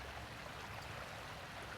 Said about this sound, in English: this is strong water moving very swiftly, so it has no trouble carrying this amount of sediment